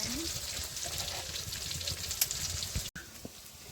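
Goat meat and spice masala with turmeric, chili powder and ginger paste frying in oil in a village home kitchen, a steady soft sizzle with faint clinks throughout.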